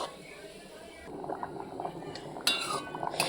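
Gulab jamun being stirred as they fry in a pan, with soft scraping and utensil clinks against the metal over a low bubbling of oil, a few sharper knocks near the end.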